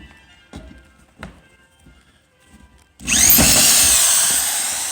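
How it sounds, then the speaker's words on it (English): A screw gun drives a self-tapping sheetrock screw into a metal stud, starting with a few light taps and knocks, then a loud, close, sustained whirring drill whine for the last two seconds. "the screw gun is probably going to be set a little bit deep for this"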